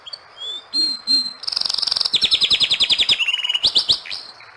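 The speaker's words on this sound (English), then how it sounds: "He loves the nightingale song" A nightingale sings a lively, varied song up close and clear, with rapid repeated trills, sharp whistled notes and quick chirping phrases, loud and alone with no voices.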